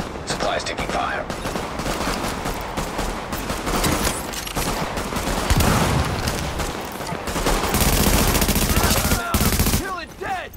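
Bursts of gunfire crack and rattle in Tom Clancy's The Division, a firefight in Chelsea. Loud, dense shots run for the whole stretch, with game voices talking over the shooting.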